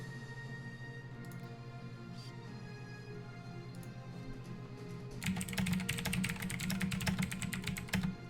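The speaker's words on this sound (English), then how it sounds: "I apologize for the typing." Rapid clacking of keys on a computer keyboard starts partway through and continues as a dense, steady burst of clicks over a low background hum.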